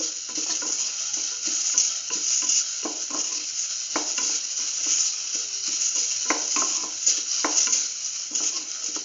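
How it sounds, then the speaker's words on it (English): Tomato paste is stirred into a sizzling frying pan while a coconut stew with scrambled egg cooks, with steady scraping and spoon scuffs over continuous frying hiss and a few light clinks. "Put in the tomato paste. Thoroughly sort and mix."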